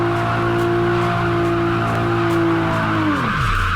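Drifting car in the racing game Assetto Corsa, with a steady engine drone and tire squeal held throughout, its pitch sliding down sharply near the end as the slide ends; loud and continuous, no talking.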